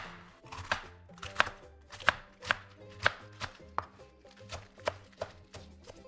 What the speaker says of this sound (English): the bok choy, just give that a rough chop too